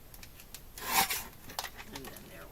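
Craft material is trimmed with a trimmer guard, producing a few close, quick rasping scrapes, one louder central stroke followed by softer rubbing cuts.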